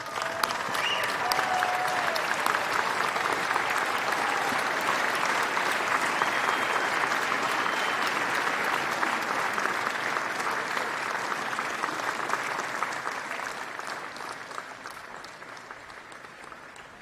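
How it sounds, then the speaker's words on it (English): Graduates at a 2024 commencement ceremony applaud their parents and family, a large crowd clapping in a dense, sustained roar that holds steady and then tapers slightly near the end. "give them a big round of applause"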